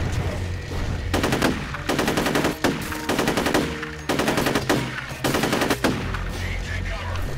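Automatic weapon fire from the shooter game F.E.A.R., loud repeated bursts of rapid machine-gun shots in several clusters with brief gaps between them.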